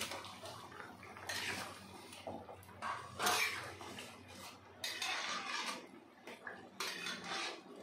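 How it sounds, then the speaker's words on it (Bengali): Fried koi fish go into a boiling curry of ol kochu (elephant foot yam) in a pot, with bursts of utensil and metal clatter and wet splashing that come and go in uneven clusters at close range. "তরকারিটা ফুটে গেছে, এখন আমি দিয়ে দেব ভেজে রাখা মাছগুলো।"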